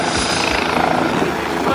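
A helicopter over New York gives off a loud, steady, close rotor and engine roar that fills the whole short moment, with voices faintly underneath.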